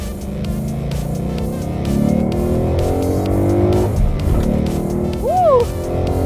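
A 2016 Ford Mustang GT pulls hard under steady loud engine roar from inside the cabin, with a short sharp tire chirp near the end as it shifts into third; a faint voice sits low in the mix.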